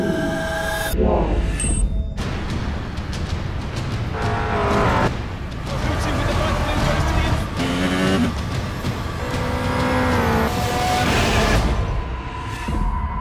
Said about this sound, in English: This is the original esport racing game.